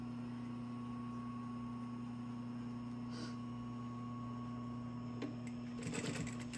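A sewing machine hums steadily while stitching a quilt seam for a memory quilt pinwheel block, a quiet, even motor drone close by, ending in a few clicks and rattles.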